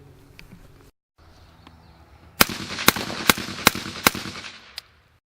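A Brownells BRN-180 rifle fitted with its standard non-suppressed piston cup fires six sharp, loud shots in quick succession, each ringing briefly, preceded by faint handling noise and a short pause.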